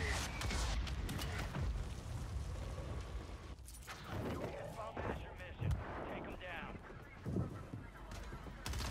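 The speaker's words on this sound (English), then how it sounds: "I just gotta wait for the mortar." Mortar strike on Rebirth Island in a video game, heavy booming impacts and dense battle noise filling the clip, loud and continuous with brief voices mixed in.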